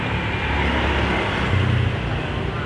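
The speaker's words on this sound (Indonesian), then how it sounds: "di sini di depan jalan raya jadinya berisik dengan mobil dan motor lewat" Cars and motorbikes passing on a busy road just outside, a continuous loud rumble of traffic with engines swelling and fading, and no voices heard.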